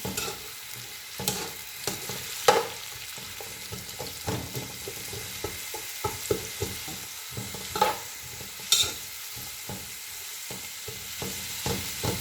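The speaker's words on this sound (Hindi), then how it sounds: "और जो मेरे पास कटी हुई थी उसको मैं अच्छे तरीके से फ्राई करूँगी इसमें" Chopped onions fry in oil for an Afghani chana meva pulao, a continuous close sizzle with frequent stirring clicks and scrapes.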